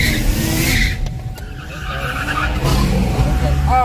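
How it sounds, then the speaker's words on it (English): A car drag racing against a turbocharged BMW, its tires skidding and squealing loudly under a roaring engine, heard close and sustained throughout. "I'm racing against this badass BMW with the turbos on"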